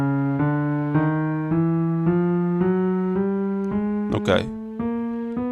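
A piano plays a chromatic scale, each key struck in turn about every half second, the pitch creeping upward step by step, clear and close, with a brief noisy knock near the end.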